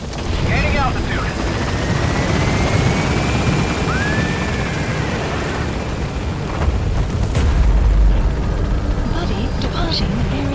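A military helicopter lifts off and climbs in Metal Gear Solid 5, a loud, steady rotor roar with a rumbling low end that holds for the whole stretch, with faint radio voices underneath.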